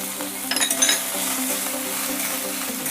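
Chopped tomatoes fry with ginger-garlic paste in a pan for an egg curry, a soft sizzle under a steady low hum, with a few light clinks of a spoon against the pan early on.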